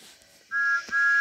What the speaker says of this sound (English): Hey, that's Thomas's